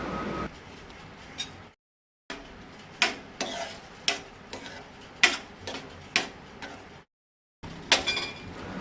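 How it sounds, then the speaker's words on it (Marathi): Sugar and chana dal are stirred in a pan, with a rhythmic series of sharp scraping taps from the spoon over a soft frying hiss, broken by two brief silent gaps. "आतां गोड आनी दाळ बरी चाळीत रावपाक जाय।"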